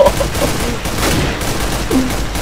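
Warning shots fired in the video game CS:GO, a dense string of rapid gunfire bursts at steady, fairly loud volume with no pause.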